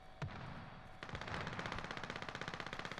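Rapid bursts of automatic gunfire in Warzone rattle steadily at a moderate distance, with a single sharp shot first and a dense repeating stream afterward.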